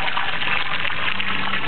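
Water gushes steadily into an empty swimming pool, a continuous broadband rush heard close and fairly loud throughout, with no speech over it.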